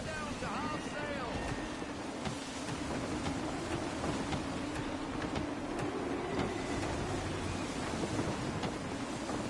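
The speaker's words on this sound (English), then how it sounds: "Wind looks to be shifting. Stay alert, Connor. Gusty winds can be difficult to manage." Gusty wind sweeps over open sea in Assassin's Creed III while sailing a ship, a steady loud rushing blow mixed with wave wash, with a voice speaking briefly near the start.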